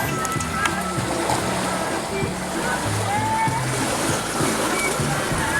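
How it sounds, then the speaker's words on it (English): Seawater washing over the deck of a sailing boat on a spinnaker run off the Kimberley coast: continuous loud rushing and splashing water, dense and close, with a voice partly audible under the wash. "just had a deck shower"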